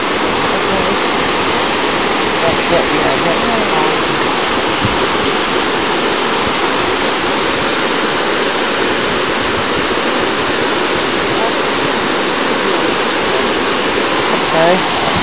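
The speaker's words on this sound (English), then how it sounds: "Let's stand by the falls." A waterfall in Australia rushes in a loud, unbroken roar of falling water that holds steady from start to finish, close at hand, with no other sounds rising above it.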